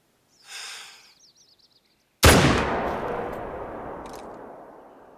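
Rifle shot fired at a moose in the hunting video game theHunter: Call of the Wild, a single sharp loud crack followed by a long rolling echo that fades out, preceded by a brief animal-like call.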